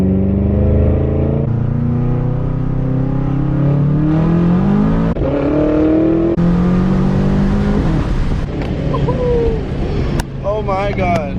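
A BMW F10 M5 running on E85 fuel pulls hard through a 40 roll, its engine note climbing steadily in pitch through several gears with brief shift breaks, loud and close from inside the car, with voices joining near the end.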